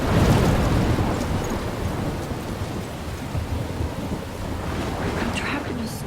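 A heavy thunderstorm in the video game Life is Strange, with a loud rolling rumble of thunder over steady pouring rain and gusting wind, continuous and close throughout.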